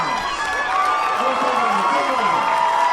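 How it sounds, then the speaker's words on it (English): A high school football crowd at Mike Vanacore Field cheering after a fourth-down defensive stop, a loud, close roar of shouts and clapping that swells and stays strong for the whole stretch, with voices audible within it. "And that got the crowd going here at Mike Vanacore Field"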